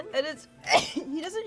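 One sharp sneeze cuts in between stretches of conversation while people talk about manga art, close and fairly loud next to the voices.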